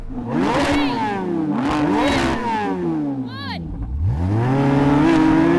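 A Ford GT and a Corvette Z06 launch in a drag race, their engines revving hard through repeated rising gear pulls, loud and close, with a brief high tire chirp midway.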